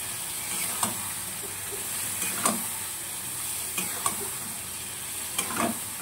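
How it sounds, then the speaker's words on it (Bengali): Yogurt is stirred into spices in a hot pan for Bengali doi potol (curd and pointed gourd), giving a steady close sizzle with several sharp scraping stirs of the spatula at intervals, and no talk. "এবার দইটা দিয়েও আর একটু কষিয়ে নেব।"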